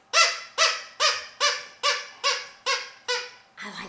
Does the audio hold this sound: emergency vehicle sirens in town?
no